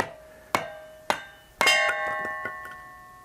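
Lightweight claw hammer strikes a kindling cracker splitting wood: three sharp metallic blows about half a second apart, the third one followed by a lingering bell-like ring and smaller knocks, close and loud with no talk.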